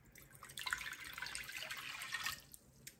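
Warm water pours into a mixing bowl holding instant yeast for bread dough, a soft, close splashing trickle lasting a couple of seconds before tapering off.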